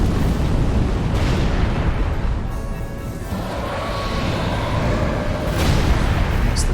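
Nameless King in Dark Souls 3 breathing fire, a heavy roaring rush of flame with deep rumbling bursts, loud and sustained through the whole stretch, swelling and easing at moments.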